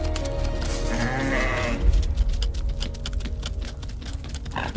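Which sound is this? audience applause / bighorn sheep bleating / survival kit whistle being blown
bighorn sheep bleating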